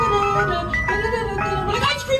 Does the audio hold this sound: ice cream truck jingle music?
yes